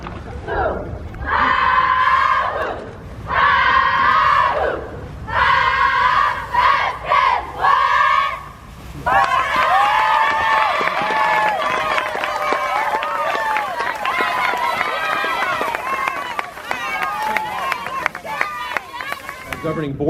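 Cheer squad at a school dedication ceremony shouting chants in loud, rhythmic bursts, then a crowd of voices cheering and yelling continuously near and loud.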